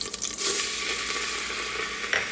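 Three spoonfuls of flour are stirred quickly into melted Arab butter and oil in a hot pan for béchamel, giving a continuous soft sizzle with light scraping of the spoon, close and steady.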